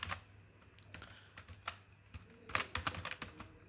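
Keys clatter on a computer keyboard as C++ code is typed, a quiet irregular run of clicks that thickens into a faster burst near the end, with no voices.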